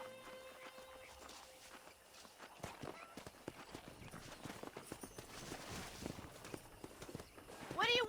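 Hooves clip-clop across the ground in an uneven rhythm as wild horses run in the video game Red Dead Redemption, with faint whinnies and some background voices, fairly quiet and distant.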